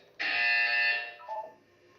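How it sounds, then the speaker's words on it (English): A sustained electronic buzzer tone sounds in the video game Portal 2, steady and bright for about a second before cutting off, followed by a brief softer lower blip. "When you hear the buzzer, look up at the ceiling."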